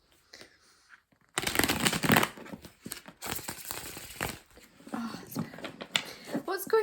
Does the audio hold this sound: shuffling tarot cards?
yes